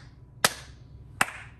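Two sharp hand claps spaced nearly a second apart, slow and deliberate, showing a low rate, with a quiet room hum between them.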